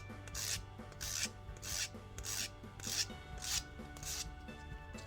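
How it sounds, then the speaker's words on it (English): Steady back-and-forth rasping of a nail file shaping a dip powder nail, upward strokes from the side of the nail in a regular rhythm, close and moderately quiet, with a faint low hum underneath. "we're going to be filing upwards at the same angle, all the way from the side of the nail upwards"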